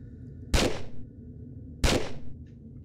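Two sharp gunshots from the Tomb Raider Level Editor game, spaced about 1.3 seconds apart, each a loud crack with a short decaying tail over a low steady hum.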